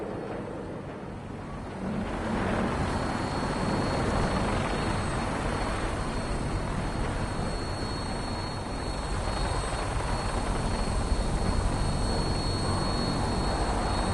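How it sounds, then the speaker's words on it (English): The Vertibird aircraft in the video game Fallout 4 gives a steady, loud rotor-and-engine roar that swells after a couple of seconds and holds as a constant drone, alone without voices. "we have a vertibird on standby, fully armed, and ready to depart"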